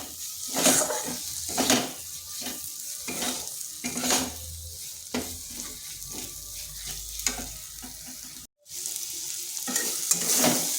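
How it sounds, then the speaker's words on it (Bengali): Mung dal frying with spice paste in a pan for a vegetarian papaya and soybean dish, a steady sizzle broken by rhythmic scraping stirs of a spatula against the pan, with a short gap near the end. "যেহেতু আগে মুগ ডালটা ভাজা হয়নি, এই মশলার সাথে একটু ভেজে নিচ্ছি।"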